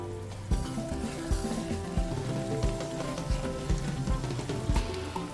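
Egusi melon seeds with salt frying in a pot on the stove, stirred constantly: a steady close sizzle and crackle, broken by soft, regular thumps and scrapes from the spoon.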